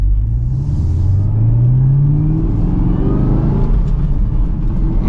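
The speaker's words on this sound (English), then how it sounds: "But let's give it another acceleration here from first gear." A 2023 Chevrolet Camaro ZL1 with a supercharged V8 pulls hard from first gear, its loud, deep engine note rising steadily in pitch with a supercharger whine, heard close and uninterrupted for about five seconds.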